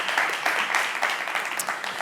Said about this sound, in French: On applaudit pour les papas.